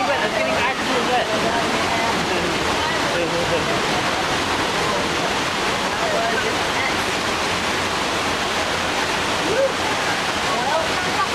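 Rushing flood water pours down during the Earthquake ride at Universal Studios California, a loud, steady wash of splashing and roaring water that continues without a break, filling the whole stretch up close.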